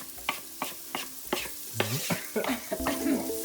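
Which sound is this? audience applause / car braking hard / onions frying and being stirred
onions frying and being stirred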